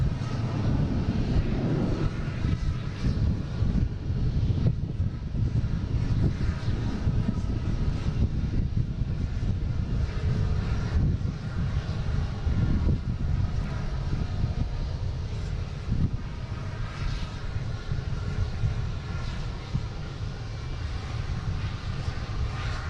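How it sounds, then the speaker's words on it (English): A Delta Airbus A321neo takes off at Boston Logan, its engines a loud, steady, rumbling roar that holds throughout with little change, no voices heard. "we have Delta heading to Minneapolis, an A321 Neo,"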